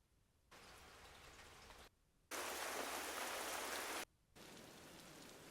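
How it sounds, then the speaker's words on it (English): Steady rain heard in three segments: a softer patter, then a louder, denser downpour, then a moderate shower, with brief silences between. "let's just try rain."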